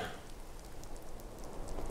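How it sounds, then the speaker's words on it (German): Rain falls in Skyrim, a soft, even hiss of drops that runs steadily for a couple of seconds with no voices. "Später geworden und es regnet."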